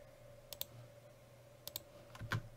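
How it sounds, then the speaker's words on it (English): Computer keyboard keys, including the spacebar, tapped in a quiet room during work in DraftSight CAD software, a few separate soft clicks in small clusters over faint background hum. "And then we'll hit the spacebar again to repeat the command."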